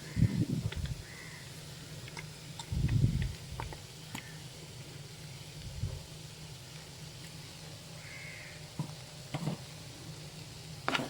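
Ground paste is stirred into cooked vegetables for avial, an Onam sadhya dish: a few soft scraping, mixing bursts over a faint low sizzle in a quiet kitchen.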